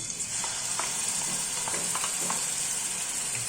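Onion, garlic and ginger paste fry in hot oil for a Bengali cauliflower and tangra fish curry, a dense continuous sizzle with faint scraping stirs, close and even throughout.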